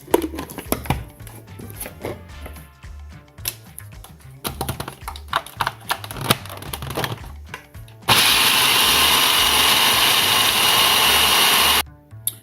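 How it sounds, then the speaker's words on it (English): Food processor chopping unsalted dry roasted peanuts. Irregular pulses of rattling, clattering nuts run into a loud continuous motor whir lasting about four seconds, then it stops. "a container of peanuts, dry roasted peanuts, unsalted. Put them in my processor. I'm gonna process them."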